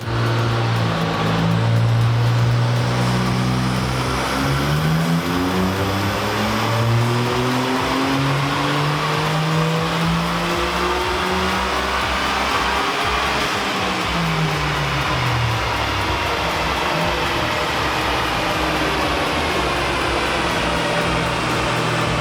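A modified 660cc turbocharged kei car with a pod filter, boost controller and N1 ECU revs hard on a dyno, its engine note sweeping up and down through repeated climbs, loud and close, with no talking.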